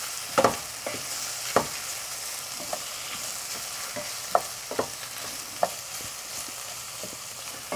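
Onion and garlic sautéing in a pan for a Kashani dill rice with lamb, a soft steady sizzle broken by several sharp scrapes and clinks of a utensil stirring, close and moderately quiet with no talking.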